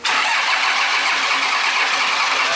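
A Cummins diesel engine fitted in a Plymouth Cuda fires up and settles into a loud, steady, deep rumble close by, with no talk over it.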